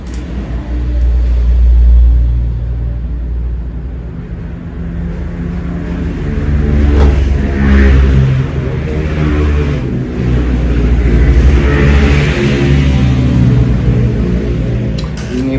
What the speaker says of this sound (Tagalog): marami pa rin dumadaang sasakyan guys. So na along the highway lang kasi kami. Maharlika Highway